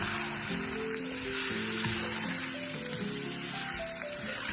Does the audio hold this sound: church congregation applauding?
no